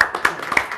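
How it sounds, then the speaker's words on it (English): A short burst of hand clapping, a few quick, close claps in a brief round of applause. "A round of applause."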